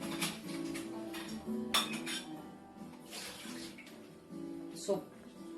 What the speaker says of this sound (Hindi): पानी हम थोड़ा सा डालेंगे initially, just to see the consistency